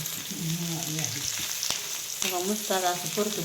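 Sliced rounds of bitter gourd sautéing in a pan, a steady close sizzle with tonal background sounds that come and go, no clear speech.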